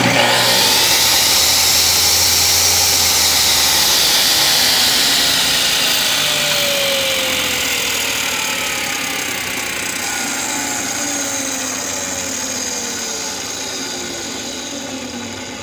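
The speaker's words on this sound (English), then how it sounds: "Next we'll be cutting these slats in half." A power tool cuts through cedar pallet slats as a single continuous, loud whining run that slowly fades, with no talking.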